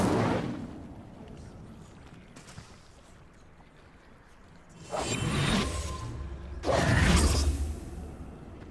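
An Incendio fire spell cast in Hogwarts Legacy: after a quiet stretch, two loud whooshing, roaring bursts of flame arrive about two seconds apart, each lasting around a second.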